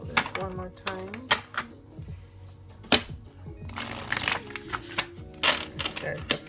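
Tarot cards are shuffled by hand in quick bursts of riffling and soft slaps, with a person speaking over the card noise.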